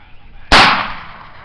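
A single gunshot fired at a target in a forest cracks loud and close, then its echo fades over about a second.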